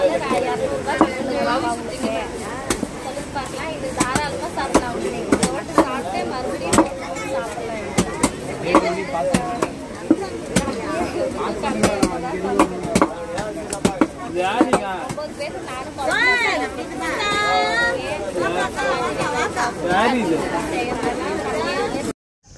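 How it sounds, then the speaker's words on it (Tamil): A fish cutter chops fish at Hogenakkal, the blade landing in quick, sharp repeated knocks amid busy market chatter and voices talking nearby. "ஃபைனலாக பார்த்தீங்கன்னா ஃபிஷ் வந்து வெட்டி கொடுத்துட்டாங்க"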